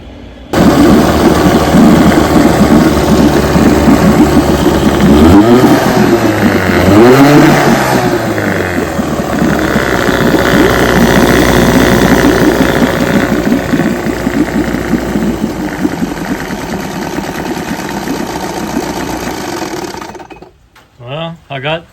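A 1967 9.5 HP vintage outboard motor runs on a test stand, droning loud and steady for about twenty seconds, its pitch rising and falling twice as the throttle is worked, then cutting out near the end.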